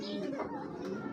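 Pigeons coo softly at close range, low murmuring calls running continuously through a short stretch with a faint rustle behind.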